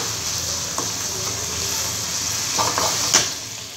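A tempering of chilli powder and hing stirred in a hot pan gives a quiet sizzle with a few light clinks of a spoon against the vessel near the end.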